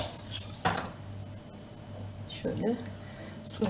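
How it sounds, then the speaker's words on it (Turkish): A knife cuts a thin lemon slice with soft tapping and clinking against a board or dish, brief and close, while someone talks over it. "Şöyle üzerine bir ince dilim limon keseceğim."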